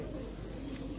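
Pigeon cooing on a Dubai rooftop loft, a soft low coo lasting about a second, faint and steady with no talking.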